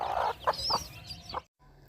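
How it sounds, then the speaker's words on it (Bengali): Several small chicken chicks cheep and cluck nearby in short bursts, then the sound drops off abruptly. "কতগুলো মুরগির বাচ্চা"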